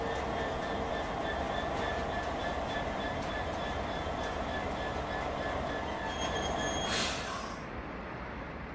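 A 2003 HGK DE670 Class 66 diesel locomotive train passing, a steady loud rumble of wheels and engine with faint squealing tones, heard alone with no talk.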